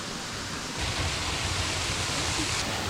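A tall waterfall in the woods on a camping trip, a steady broadband rush of falling water that swells louder partway through, close and continuous with no talk.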